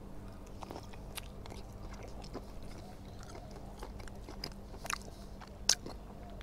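Freshly cooked calamari and whiting being chewed close to the microphone, quiet irregular bites and soft crunches over a low background hum, with a couple of louder snaps near the end.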